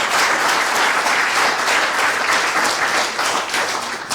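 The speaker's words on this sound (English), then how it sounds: "serious big round of applause for holding this organisation" Loud, continuous applause from the audience at an annual general meeting, steady, dense clapping filling the room that only eases slightly toward the end.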